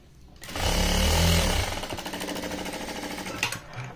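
A sewing machine stitches through fabric with buckram interfacing set in the middle. It runs loud and close in one continuous burst of about three seconds, with a fast rattling motor drive, and no talk is heard.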